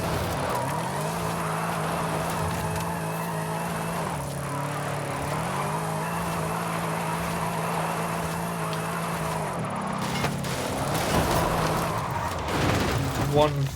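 The Exorcist car in Forza Horizon 5 drones with a steady engine note that shifts pitch as it slides and spins out, ending in a rougher burst of tire and engine noise, with no talk.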